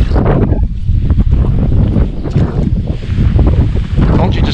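Strong wind buffeting the microphone on a boat during bass fishing on a lake, loud gusty rumble rising and falling throughout, with some faint background sounds beneath.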